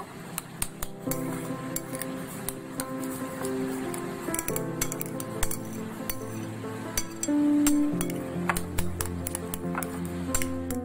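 Chicken is stirred into a beaten egg mixture in a bowl for a bread omelette, with quick irregular clinks of a utensil against the bowl over soft tonal background music.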